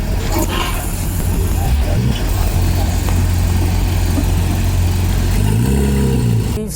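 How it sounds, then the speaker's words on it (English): A stock-exhaust Porsche 991.1 GT3 RS driving through city streets, its steady engine drone loud and continuous from inside the cabin with a window open, rising in a smooth rev sweep near the end. "We opened up the window so we can hear the magnificent exhaust"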